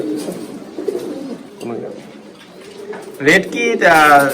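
Pigeons coo at a pigeon farm with low, soft throaty calls close by, mixed with people talking and a sharper burst of calls toward the end.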